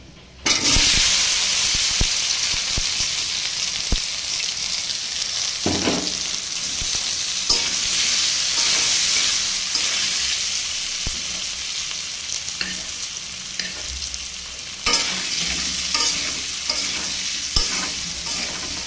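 Taro and potato stir-fried in oil in a wok with black cumin seeds, giving a steady loud sizzle and hiss throughout, with occasional scrapes and stirring knocks and no talking.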